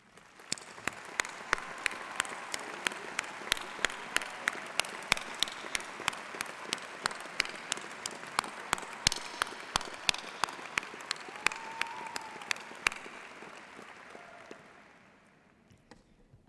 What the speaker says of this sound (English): please stand so we too can applaud and recognize you.